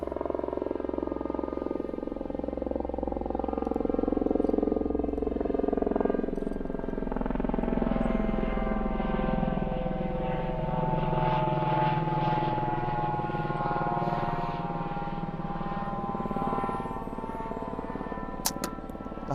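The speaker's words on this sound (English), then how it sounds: "Here comes that helicopter." A helicopter, likely an air ambulance heading to a nearby hospital, passes overhead; its rotor thrum swells, loudest midway, then slowly fades while the engine's whine shifts in pitch.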